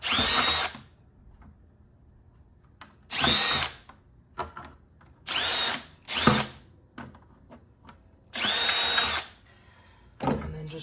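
A power drill fitted with a larger bit bores holes during installation of a phone mount in a 2015–2020 Ford F-150, running in four or five loud whirring bursts of a second or so each, separated by quiet handling clicks.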